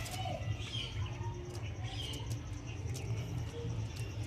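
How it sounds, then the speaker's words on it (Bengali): Andhra Bondhu line (Pilanka) pigeons coo softly and steadily in a low, continuous murmur, with faint chirps over a constant background hum. "এটা বন্ধু লাইনের পায়রা"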